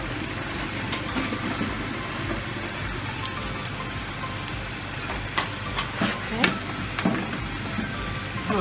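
Zucchini slices frying in hot oil, a steady crackling sizzle with sharper pops toward the end, a voice faintly present.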